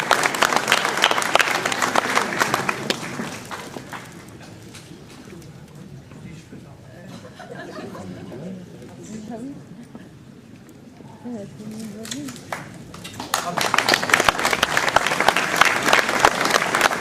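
An audience applauds a silver medal recipient honored for her work as a nursery school staff member at a mayor's New Year ceremony in Ouistreham; loud clapping at the start fades to murmur, then surges back strongly.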